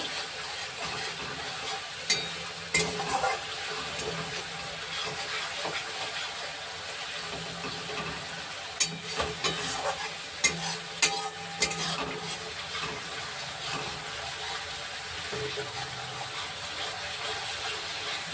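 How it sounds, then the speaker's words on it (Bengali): Spice masala for a green banana dish being sautéed and stirred in an oily pan, with a continuous sizzle and repeated metal spoon scrapes and knocks against the pan, close and fairly loud. "ঘুরিয়ে ঘুরিয়ে খালি নাড়তে হবে, মশলাটাকে কষাতে হবে"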